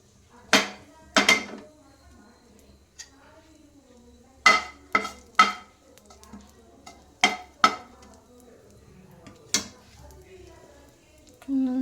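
A metal spoon stirs cumin seeds in oil in a pan, giving sharp, irregular clanks and scrapes against the pan, with quiet gaps between them.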